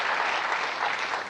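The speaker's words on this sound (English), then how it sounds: "you can applaud for our band" A television studio audience applauds a band at a 1972 variety show, a dense, steady wash of clapping filling the full clip without pause.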